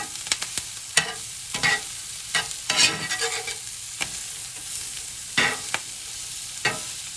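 Steak and egg skillet browning in butter, a continuous close sizzle broken by repeated sharp spatula scrapes and stirring clatters at irregular intervals, with no talk.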